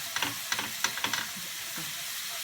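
Ingredients being sautéed in a pan give a steady close sizzle with a few short scraping stirs near the start, then continuous frying hiss alone.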